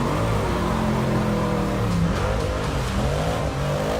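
A custom four-wheel-drive Batmobile with a rally-car-based drivetrain revs its engine loudly up close, a throaty roar that rises and falls in pitch through several throttle blips, alone without talk.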